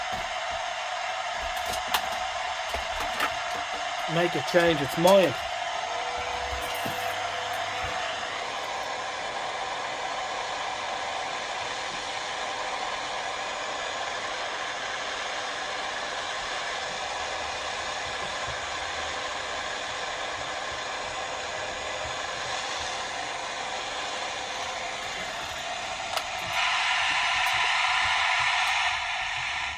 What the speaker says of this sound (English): I'll just put the hairdryer on it